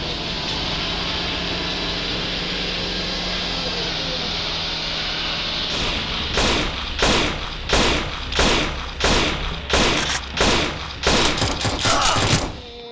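Gunfire in a Roblox game: after a steady low hum, a string of about ten sharp, evenly spaced shots rings out loudly, each with a quick decay.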